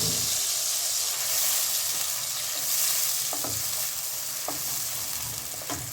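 Onion paste and ginger-garlic paste frying in oil on a low flame, a steady bright sizzle and hiss running throughout, with a few faint clicks of stirring near the end.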